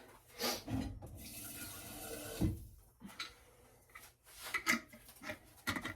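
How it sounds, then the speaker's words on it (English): Water is poured into a nearly empty pasta sauce jar to rinse out the leftover sauce, with intermittent splashing and trickling bursts, fairly close and moderately quiet. "add some water to this to get out all of the leftover sauce"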